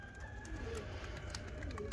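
Domestic pigeons let out of a dovecote give low, soft cooing calls over faint outdoor background noise, a few murmuring coos repeating quietly near at hand.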